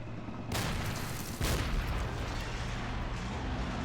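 Grenade blasts in the Army Men: Plastic Wars video game, two sharp booming bursts about a second apart that rise out of a steady, dense wash of game background noise, with no talking.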